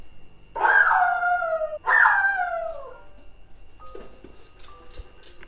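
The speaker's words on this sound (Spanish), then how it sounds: "No cuando el perrito está aullando." A small pet dog howls twice in long drawn-out wails, loud and close, followed by quieter whimpering yips, in an indoor home setting.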